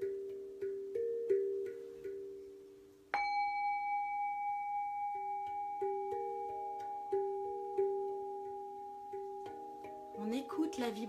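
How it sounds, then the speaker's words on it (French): A struck gong rings out and sustains a long, shimmering hum, preceded and followed by softer bell-like tones and chimes at a moderate distance, during a meditation session. "On écoute la vibration du gong"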